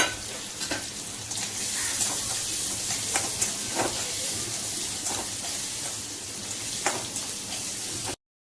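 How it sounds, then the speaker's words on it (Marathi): Two medium finely chopped onions sauté in hot oil until golden, giving a steady close sizzle and crackle with occasional sharp pops and stirring scrapes throughout. "नंतर 2 मध्यम आकाराचे कांदे बारीक कापून घेतलेले आपण त्यामध्ये टाकून घेऊया आणि चांगले सोनेरी कलर येईपर्यंत त्याला आपण परतून घ्यायचे आहे"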